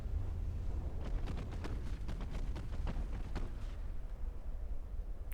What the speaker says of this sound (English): Damage received. Torpedo hit.